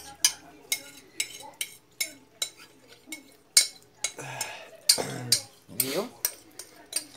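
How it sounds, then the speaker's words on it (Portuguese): A spoon scrapes and spreads a sticky Syrian sweet mixture, giving a steady series of short scraping strokes close up, with a few louder clattering scrapes later on and brief talk in the background. "Pegar uma colher aqui pra dar uma raspadinha aqui"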